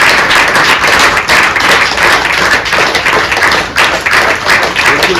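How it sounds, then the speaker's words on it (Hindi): An audience claps continuously at a yoga demonstration event, a dense, loud burst of applause with a faint voice underneath. "तालियां बजती रहनी चाहिए।"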